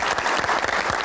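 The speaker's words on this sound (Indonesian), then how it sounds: "Kita berikan tepuk tangan yang paling meriah untuk rekan-rekan panelis yang menemani kita pada malam hari ini." A studio audience at an Indonesian evening talk show applauds the panelists with loud, continuous dense clapping that fills the whole moment, with no speech over it.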